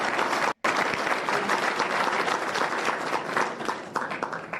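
An audience at a Gettysburg, Pennsylvania election hearing bursts into sustained, dense applause, with many hands clapping steadily at close range and one brief break near the start.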